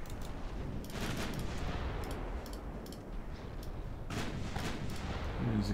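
Naval gunfire in World of Warships, a Japanese dreadnought battle: dense, continuous booming and crackling shell fire over a rumbling low roar, with heavier salvos swelling near the end.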